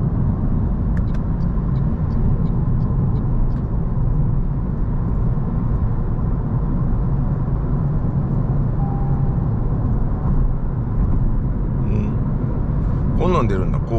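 A Toyota Prius on the move with its engine running, a steady broadband road and engine rumble throughout, with people talking inside the cabin.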